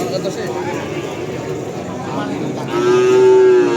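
Amid crowd chatter and bustle at the Kerek cattle market, a cow lets out one loud, drawn-out moo close by near the end.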